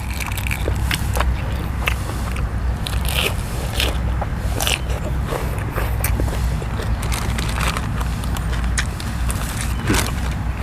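Crunchy Korean soy-pickled seafood such as salmon and shrimp is bitten and chewed up close, giving dense continuous crackling and crunching throughout, with no talk.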